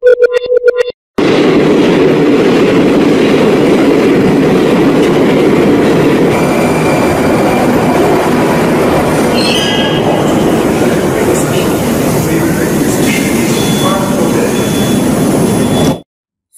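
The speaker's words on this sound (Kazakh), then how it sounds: "Дұрыс айтасыңдар, бұл метро." A metro train rumbles loudly and continuously, its wheels clattering and squealing faintly as it runs, cutting off abruptly at the end.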